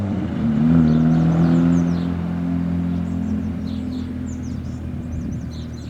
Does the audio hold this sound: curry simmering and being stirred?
no